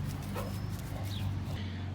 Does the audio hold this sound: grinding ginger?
no